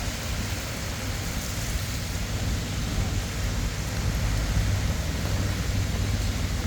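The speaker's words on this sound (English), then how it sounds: "In the rain, pouring with rain." Heavy rain pouring at Horse Guards, a thick, unbroken wash of falling water and spatter on the ground with a low rumble underneath, steady and close with no clear speech.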